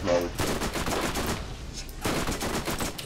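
Enemy gunfire in the video game Borderlands: rapid, loud bursts of automatic shots crackle in two clustered volleys, with a brief lull between them.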